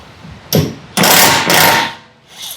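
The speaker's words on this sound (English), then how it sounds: "Nothing better than DeWalt power tools." DeWalt power tools at work during a roll cage install on an EP3, bursts of loud mechanical whirring and impact noise, one short hit followed by longer sustained runs, close to the listener.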